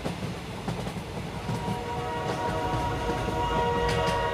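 A train rumbles along the rails at a steady level, with low clatter and a faint horn-like tone, heard alone without voices.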